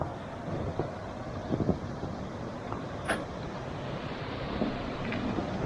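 Water rushes continuously past in a river on snowy Dartmoor near Okehampton, a broad steady wash blended with gusty wind buffeting the microphone and a few faint knocks.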